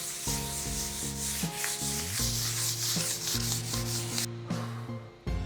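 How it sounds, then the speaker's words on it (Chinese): Fine 400-grit sandpaper rubs steadily across a glazed kitchen tile surface, a continuous scratchy hiss lasting several seconds beneath tuneful background music, with no talking. "这个表面最好是拿砂纸，400号砂纸稍微跑过"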